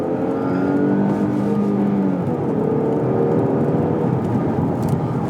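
An Infiniti Q60 3.0t AWD car accelerates hard from inside, its engine note climbing through the revs and then settling, with a steady whir and road noise underneath and no talk.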